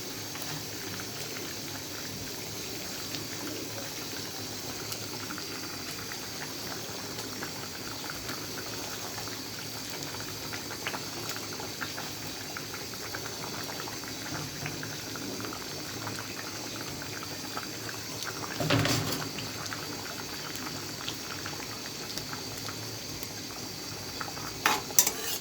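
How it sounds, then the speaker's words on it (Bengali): Pangas fish curry broth at a steady rolling boil in a pan: a continuous close bubbling and simmering hiss with no break, with a brief clatter near the end and no talking. "এই যে ঝোলটা ভালো করে ফুটে গেছে"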